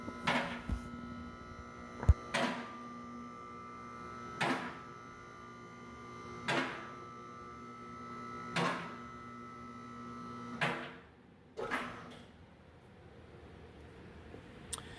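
A Worth car lift raises and lowers a car while its system is bled of air: a steady motor hum with a loud clunk roughly every two seconds, ending in a quieter hiss.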